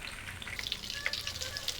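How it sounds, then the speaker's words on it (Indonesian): Cassava leaf rolade frying in hot oil, giving a steady, close crackle and sizzle with scattered small pops throughout, no voices. "Dan hati-hati saat menggoreng, takutnya nanti minyaknya ada yang nyiprat."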